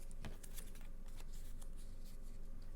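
Cardboard being folded into a gluing lug for a Christmas Santa craft, giving soft, close papery rustles and crisp creasing scrapes that run steadily throughout.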